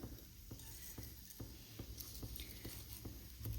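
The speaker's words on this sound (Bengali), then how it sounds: "এবার আমি দিয়ে দেবো কালো জিরে ফোড়ন" Black cumin seeds sizzle in hot mustard oil in a wok, a steady crackling fry with soft taps of stirring, fairly quiet and close with no talk.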